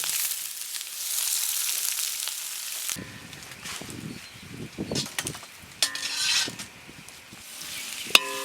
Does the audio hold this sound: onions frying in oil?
yes